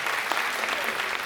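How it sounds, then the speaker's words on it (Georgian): A concert audience applauds at a year-end studio concert, a dense, even burst of clapping over a brief moment with no break. "აპლოდისმენტები."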